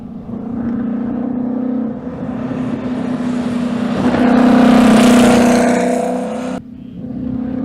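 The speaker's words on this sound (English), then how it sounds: "At full chat, the SLR's straight 8 screamed like an artillery barrage." A Mercedes-Benz 300 SLR straight-eight racing car engine roars loudly, rising to a howling peak as it passes close by, then cuts off abruptly.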